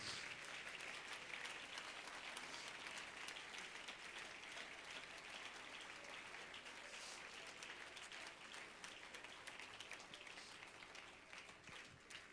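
Church congregation applauding the Lord during a sermon, a steady wash of many hands clapping that fills the whole stretch at an even level, heard alone without talk.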